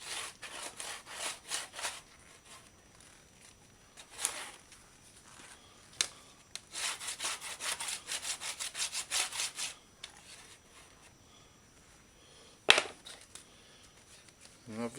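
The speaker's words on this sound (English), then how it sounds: "try to use a plastic scraper so you're not scratching the surface" A plastic scraper rubs paint off a vintage caravan window in quiet, rhythmic scraping strokes that come in short runs with pauses between them.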